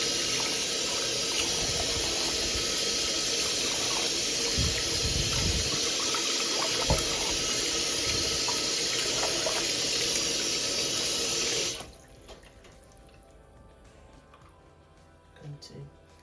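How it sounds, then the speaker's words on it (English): Tap water runs loudly and steadily over a sea bass being rinsed in a sink for about twelve seconds, then the flow cuts off, leaving quiet room tone with a few faint handling clicks. "I'm going to give it a little bit of rinse."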